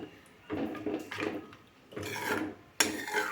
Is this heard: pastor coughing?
no